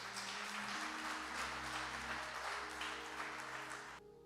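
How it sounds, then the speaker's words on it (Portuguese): A church congregation applauds during a Portuguese-language sermon, a dense wash of clapping over a low sustained organ or keyboard chord, fairly distant, cutting off abruptly near the end. "Quem pode aplaudir ao Senhor por isso?"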